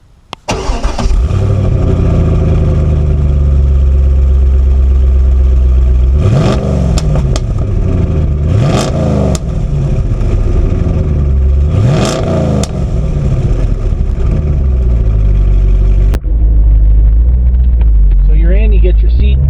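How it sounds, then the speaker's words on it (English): A Corvette C6 Z06 V8 starts up, idles loudly with a deep exhaust note, then revs hard several times in rising and falling bursts, heard close and loud. "listen to that exhaust note"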